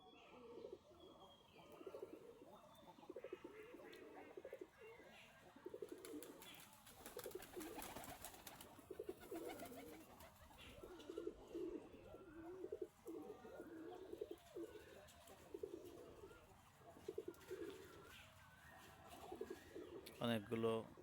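Many pigeons coo in a low, repeating rumble while playing in rainwater after a long-awaited rain, their calls steady and fairly near throughout, with a faint voice now and then and a brief clatter near the end.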